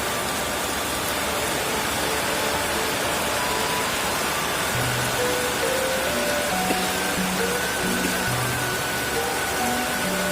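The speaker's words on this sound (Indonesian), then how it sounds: "seperti ini kondisinya kalau hujan di kandang" Heavy rain with gusting wind pours down over an animal pen in the late afternoon, a dense continuous hiss with faint tonal sounds drifting through the background.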